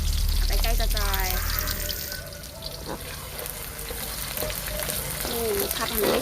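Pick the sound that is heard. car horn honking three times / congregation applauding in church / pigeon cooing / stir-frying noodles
stir-frying noodles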